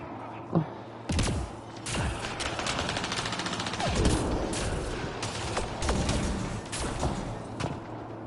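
Gunfire crackles in the sci-fi shooter Mass Effect Andromeda, with rapid automatic bursts and sharp impacts repeating throughout a chaotic fight while a voice talks over the action.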